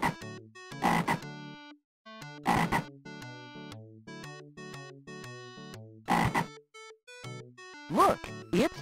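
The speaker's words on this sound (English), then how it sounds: "We can play with the frog." A cartoon frog croaks in a children's hide-and-seek game show, with repeated loud croak bursts in irregular clusters, set against bright, tonal cartoon music.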